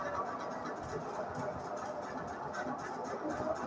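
A sewing machine stitches the neck and shoulder seams of a kameez, running in a steady, rapid mechanical patter with faint irregular pulses, fairly quiet and continuous throughout.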